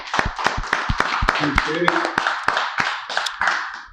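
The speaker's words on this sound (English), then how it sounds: "Clap it up for Brother Sanchez." An audience claps in a loose, uneven rhythm of sharp hand claps, moderately close, with a voice talking underneath partway through.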